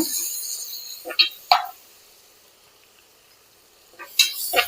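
Ground paste of coconut, coriander, mint and green chili tipped into a hot pan, giving two brief soft plops with a quick sizzle, then near quiet, and another sizzling burst near the end.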